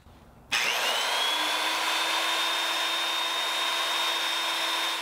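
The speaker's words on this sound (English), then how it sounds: "I drilled a pilot hole through both the outer and the inner tube at the same time" A drill starts abruptly and runs at a steady high whine, its motor tone rising slightly and holding as it bores a pilot hole through an outer and inner steel tube at once.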